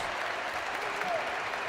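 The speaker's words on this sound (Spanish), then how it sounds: "Tomás Pavelka, ovación para él." A basketball arena crowd gives a sustained ovation to player Tomás Pavelka, with a dense wash of clapping, while a commentator speaks over it.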